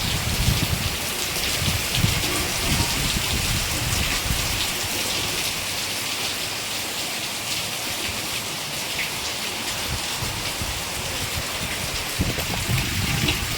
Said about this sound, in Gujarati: તો વરસાદ પવનની સાથે બહુ જબરજસ્ત ચાલુ છે